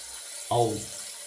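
A tap runs briefly to rinse a Schick Injector safety razor, a short burst of splashing water that starts abruptly and holds at moderate loudness, close by, with no voices.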